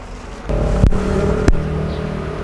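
A Toyota Yaris Gen 2 hatchback being driven, its engine a steady low hum from inside the cabin, broken by two sharp knocks or thumps, with no one talking.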